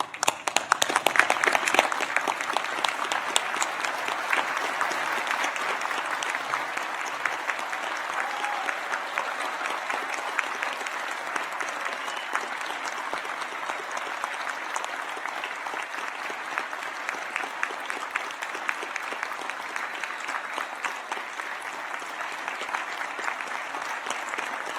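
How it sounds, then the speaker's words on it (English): Sustained applause from an audience at a university graduation ceremony honoring graduates, a dense wash of many hands clapping that swells at the start and holds steady for the whole stretch. "join me in applauding the wonderful achievement of our graduates"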